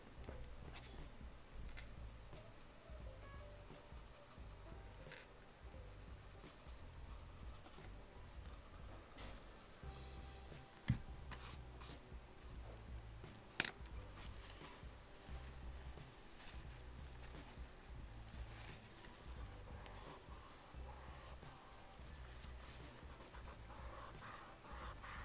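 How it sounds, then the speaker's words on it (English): A pencil rubs on paper as shading on an apple drawing is blended and erased: a faint, continuous dry scratching and rubbing with a couple of small sharp taps along the way. "Blending out this edge to make it nice and soft, erasing."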